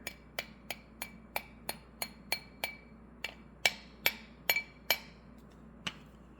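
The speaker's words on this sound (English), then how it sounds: "I'm just tapping on this wire." Copper wire wrapped on a steel ring mandrel takes a series of sharp, ringing metallic taps, about a dozen and a half evenly paced strikes with a bright clink, close up, over a faint steady background hum.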